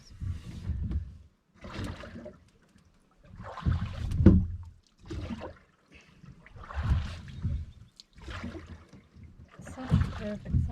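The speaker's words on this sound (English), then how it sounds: "Let's go for a row." A rowing boat is rowed on a calm, windless summer lake in Finland, with rhythmic oar strokes splashing and swishing about every second and a half, close and clear.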